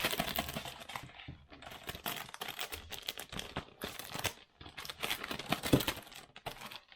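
Paper or plastic packaging crinkles and rustles in quick, busy bursts as a 15 by 30 item is unwrapped close up, with brief pauses between handfuls and no talking.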